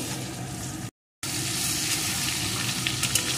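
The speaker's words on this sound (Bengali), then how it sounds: "এখন সমস্ত মশলাকে একটু কষিয়ে নেব" Spices with chili powder and sugar sizzle steadily in a hot pan while being stirred for mustard okra, a constant frying hiss broken by a brief dropout.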